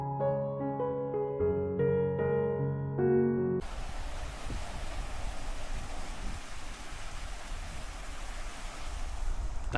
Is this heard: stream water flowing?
yes